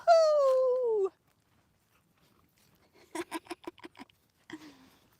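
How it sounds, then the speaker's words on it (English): A happy, excited dog on a Louisiana homestead gate walk gives a long high whine, then a burst of short rapid yelps and whimpers after a pause, close by with no talking. "Now that is one happy dog."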